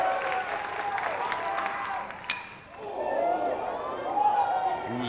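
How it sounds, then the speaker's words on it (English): Crowd at a Division III college baseball championship game between Lynchburg and Johns Hopkins reacts to a foul ball, a broad murmur of oohs and cheering swelling, dipping briefly, then rising again, with spectator chatter mixed in. "Oohs and ahs from the crowd on that foul ball."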